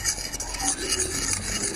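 Sugar, water, egg yolks and cornstarch are whisked together in a bowl for strudel custard, with a continuous close scraping and stirring rhythm and no talking.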